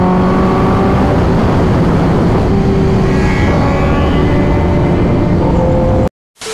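Superbikes rev loudly at an expressway food plaza, a dense, steady engine roar with rising throttle blips in the middle, running continuously before cutting off abruptly near the end.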